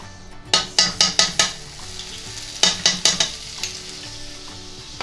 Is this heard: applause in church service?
no